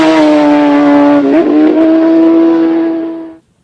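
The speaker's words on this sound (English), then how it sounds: "They're racing on public roads, on super bikes with more than 200 brake horsepower" An Isle of Man TT superbike with more than 200 horsepower races along a public road, a loud, high, sustained engine howl whose pitch bends as it passes close by, then fades and cuts off abruptly.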